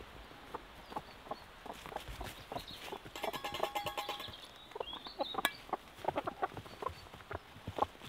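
Hens in a rural Scottish yard cluck and squawk excitedly over treats, with a busy run of close, overlapping clucks and a few higher calls throughout.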